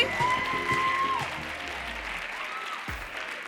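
Audience applause for the poet Amani at a youth voter slam poetry finals, a dense wash of clapping with a brief whistle and cheers over it, sustained and loud, easing slightly toward the end.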